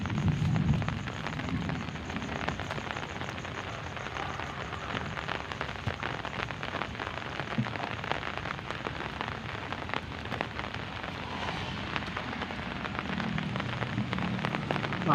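Heavy rain pours steadily over a village, a dense, continuous hiss of drops on roofs and ground that stays loud and unbroken throughout, with no voices.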